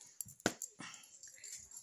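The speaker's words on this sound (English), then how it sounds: "What kind of dog is he? Pomeranian." A Pomeranian dog lets out a few short, soft whimpers and yelps close by, with brief sharp bursts separated by quiet moments.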